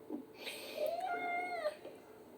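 Miso the cat from the game Life is Strange: Double Exposure gives one clear, drawn-out meow that rises and falls in pitch, close and alone with no talk over it.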